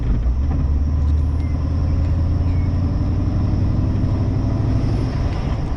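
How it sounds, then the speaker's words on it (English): An LS1 V8 swapped into a Nissan Patrol, heard from inside the cabin while driving with the windows down: a steady, smooth low rumble with road noise, continuous and even, with no talking. "Even when you get the RPMs up, you just barely hear the engine."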